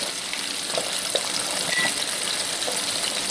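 Chicken drumsticks fry in a pan, giving a continuous bright hiss and crackle with a few small pops, steady and close, with no voices.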